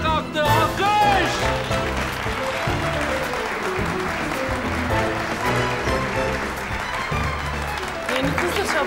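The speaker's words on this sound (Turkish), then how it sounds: "Alkış!" Applause for a boss who has just got up to dance at a party, sustained clapping mixed with music and a lively crowd, with voices talking over it.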